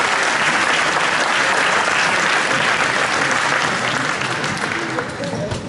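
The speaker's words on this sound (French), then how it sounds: "On peut encore les applaudir, s'il vous plaît." A seated audience at a football coaching training event claps loudly and steadily in a continuous burst that eases slightly toward the end.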